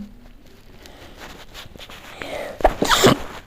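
A single sharp sneeze bursts out near the end, close and loud, after a few seconds of quiet room noise with faint shuffling.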